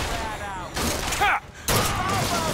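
Rifle shots ring out in the first-person shooter BioShock Infinite, several sharp reports in bursts separated by brief gaps, loud against game ambience, with a voice talking partway through.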